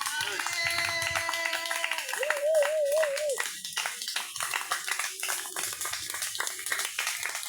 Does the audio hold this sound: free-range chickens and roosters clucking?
no